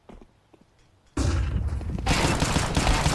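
Rapid gunfire from a Counter-Strike match at a LAN esports tournament, a few faint shots first, then a sudden loud sustained burst of automatic fire that grows denser near the end.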